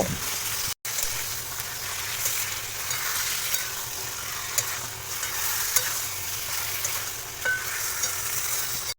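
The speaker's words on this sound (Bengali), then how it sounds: "এবার কিন্তু মাটনগুলো পেঁয়াজের সাথে আমি 10 থেকে 15 মিনিট ভালো করে ভেজে নেব।" Marinated mutton frying with onions in a pan for a mutton curry, a dense continuous sizzle close up with faint stirring and scraping throughout and a brief break near the start.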